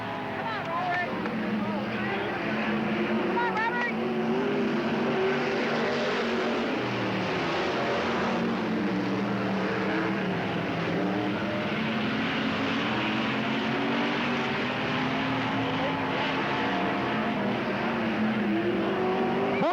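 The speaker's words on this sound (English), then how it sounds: "Bumper to bumper, Robert Hand, David Gould." Race cars roaring around Cottage Grove Speedway, a continuous loud engine drone of several cars running close together, with an announcer calling the race over it.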